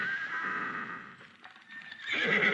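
A horse neighs in a children's audiobook of Cinderella, a loud, clear whinny that dips briefly, then rises again, heard alone without speech.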